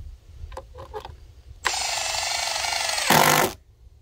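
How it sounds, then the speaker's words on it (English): A power drill drives screws into the bottom of a DIY deer blind tower, one steady loud whirring run of about a second and a half that rises in pitch and strain at the end before cutting off, after a few faint taps. "I'm gonna drive in the bottom screws on both sides"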